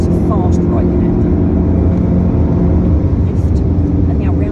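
VW Golf GTI Mk8 accelerating on the Nürburgring, a steady loud in-cabin engine drone with rumbling low end, under a driver's spoken instructions.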